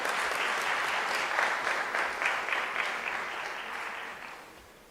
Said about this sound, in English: Can we please give a round of applause to Prof.